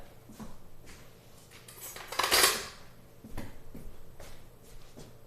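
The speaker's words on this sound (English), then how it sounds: "I'm actually going to grab a spatula." Kitchen utensils clatter as a spatula is grabbed from among them, a few metallic clinks and one louder rattling jangle in the middle, close and otherwise quiet.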